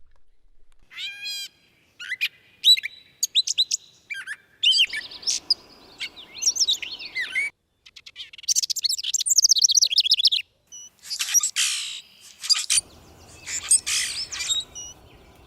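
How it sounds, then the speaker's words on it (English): Many birds call and sing at once in a dense dawn chorus at Trustom Pond, with chirps, trills and whistles, some close and loud, others farther off, with no talking. "lots of birds calling, dawn chorus"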